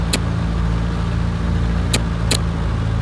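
Piston aircraft engine holding a steady run-up drone in the X-Plane flight simulator at an Eatonville, Washington airfield, with three brief clicks over the constant hum.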